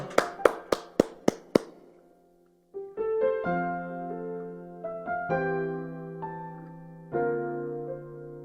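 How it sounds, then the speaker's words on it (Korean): A church congregation at Sunday worship claps about six sharp, evenly spaced times in unison, then keyboard music starts and sustains with steady held chords. "큰 영광의 박수 올려드리면서 우리 예배함으로 주님 앞에 나갑시다"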